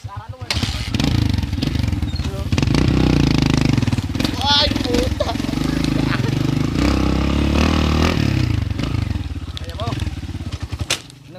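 A lowered motorcycle's engine runs loudly and steadily throughout on a mountain road trip, with throttle revs rising and falling while people talk over it.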